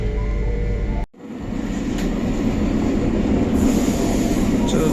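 A moving Trenitalia regional train heard from inside the carriage gives a steady low rumble with faint clatter. A brief cut of near-silence interrupts it early on, then the rolling noise resumes under a faint high whine.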